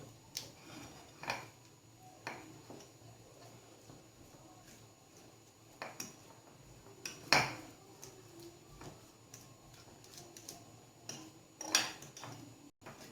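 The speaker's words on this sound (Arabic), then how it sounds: "وغادي نمعك هذا الفرماج مزيان" Cheese being mashed in a bowl with a utensil, producing soft irregular scraping and tapping knocks, quiet and close, with a few sharper clinks against the dish.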